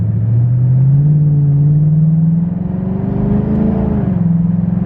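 Shelby GT500 with a $2000 aftermarket exhaust revving, a loud deep engine rumble rising and falling in pitch as the throttle is blipped up and eased off, close by.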